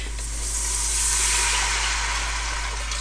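Chicken or vegetable stock poured into a hot Instant Pot insert, giving a continuous loud hissing sizzle with steam, steady and close for three seconds.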